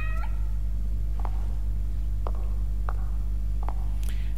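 A cat meows several times in short separate calls over a loud, steady low hum from the video game The Evil Within, with no talk.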